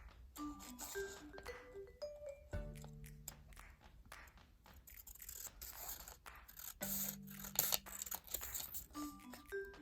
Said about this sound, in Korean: 3개가 있어야 되니까 가위로 자를게요